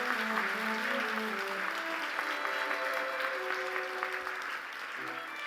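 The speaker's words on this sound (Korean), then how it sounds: "뜨거운 박수로 축하해 주시기 바랍니다." An audience claps warmly at a Samsung Ho-Am Prize award ceremony, dense sustained applause filling the hall from start to finish, thinning slightly near the end.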